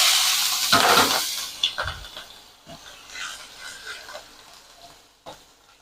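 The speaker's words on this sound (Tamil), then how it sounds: "இஞ்சியும் பச்சை மிளகாயும் கொஞ்சம் ஃப்ரை பண்ணிக்கிடணும்" Ginger and green chillies frying in hot oil in a home kitchen pan, a steady sizzle broken by a few louder bursts and spatters near the start, then settling into a softer crackle with occasional clinks.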